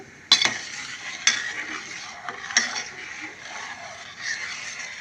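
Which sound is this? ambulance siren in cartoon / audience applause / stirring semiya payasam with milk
stirring semiya payasam with milk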